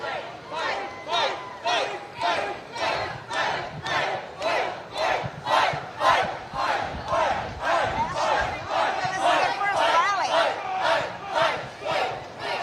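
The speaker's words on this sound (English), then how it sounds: "as you can hear, the crowd chanting "Fight" right now, live in Grand Rapids" Large rally crowd at a political event in Grand Rapids, Michigan, chanting "Fight" in steady, evenly spaced loud bursts that repeat throughout, with no separate talking voice.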